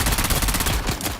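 Rapid automatic gunfire in Dune, a loud, close burst of evenly spaced shots that fades into a few scattered reports near the end.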